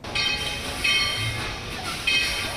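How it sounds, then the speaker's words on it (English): The Dollywood Express, a coal-fired steam train, rolls through the theme park with a steady rumbling hiss and rhythmic surges of chuffing, heard at moderate distance. "The train winding its way through the park, giving a glimpse of new and old."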